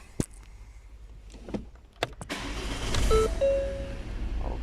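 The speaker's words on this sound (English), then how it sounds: "and let's start the car" A Ford Kuga engine starts after a few clicks and thumps from inside the car, then settles into a steady low idle with a faint rising whine as it runs.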